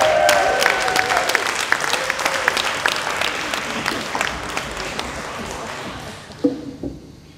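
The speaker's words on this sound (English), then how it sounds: "let's give the biggest applause that you've done so far to James Ward" Applause at a university science slam in Glasgow as the final speaker takes the stage, sustained clapping with some cheering that thins and fades out near the end, followed by a brief thump.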